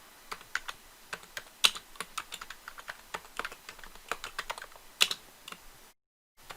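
Commands typed on a computer keyboard, a close run of quick, uneven key clicks with a few louder strokes, ending in a short silence.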